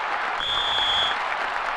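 A large soccer stadium crowd at an LA Galaxy versus Chicago Fire match keeps up a steady, dense roar of applause and cheering, with a faint whistle-like tone riding over it.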